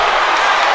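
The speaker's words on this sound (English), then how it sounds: "this crowd is rocking" A high-school basketball crowd roars steadily after a dunk in a playoff game, a loud, sustained wall of cheering in a packed gym.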